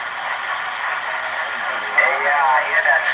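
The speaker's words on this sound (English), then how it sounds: "With the big echo effect, with the reverb." A CB radio transmission on 27.355 MHz, band-limited and crackly, carries a distant voice smeared by a heavy echo and reverb effect, steady throughout.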